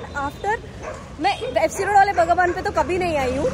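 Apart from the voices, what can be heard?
dog barking outdoors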